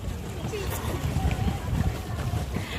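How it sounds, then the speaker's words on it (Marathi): Boat moving across water on a boating outing, with a steady low churning wash and wind buffeting the microphone throughout, and voices faintly audible beneath the noise. "आता आम्ही बोटिंग करतो."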